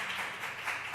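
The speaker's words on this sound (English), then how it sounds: "I don't know if you're clapping for me or Waffle House" Steady applause from an audience at a Georgia State Election Board meeting, a dense, even wash of many hands clapping at a moderate distance without a break.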